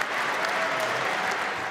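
A squash crowd bursts into dense, steady applause after a long rally, loud and close throughout with no talk over it.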